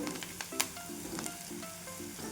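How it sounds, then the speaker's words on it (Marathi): Ground masala paste sizzling in hot oil with onions already fried to a reddish brown, cooked for a potato bhaji; a steady close crackle with brief stirring scrapes and a faint tonal hum underneath. "हा केलेला मसाला तेलामध्ये टाकून देते आणि थोडा वेळ भाजते"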